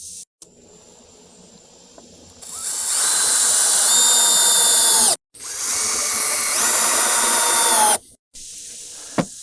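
A power drill drives screws into a ticket booth sign in two long whirring bursts, each rising in pitch and then cutting off, with quiet gaps between.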